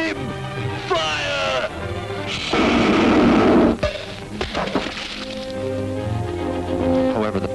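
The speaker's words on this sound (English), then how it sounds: "the pirate's heaviest cannon failed to dent the giant liner" Cartoon pirate ship's heavy cannon fires at a giant ocean liner, a loud burst of booming blasts and crashing noise lasting about a second, set among music and cartoon sound effects.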